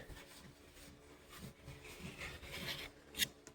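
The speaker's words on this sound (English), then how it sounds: "then you can just go and scrape all that off" A blade scrapes cured fiberglass off a homemade fiberglass camper shell, giving repeated rasping strokes close to the microphone, with a sharper, brighter scrape near the end.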